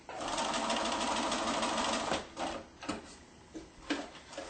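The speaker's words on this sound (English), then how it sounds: "And I'm going to back stitch as always." A sewing machine back stitching fabric for a reversible A-line dress, a steady close whirring run for about two seconds that breaks into short stop-start bursts.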